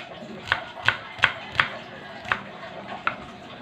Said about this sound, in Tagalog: maghiwa tayo ng sibuyas